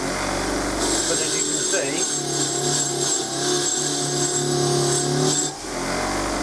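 Bench grinder used as a makeshift buffer to strip lacquer from trike forks: a steady motor whine with a harsh rubbing, grinding texture that runs for about five seconds under a few spoken words, then cuts off.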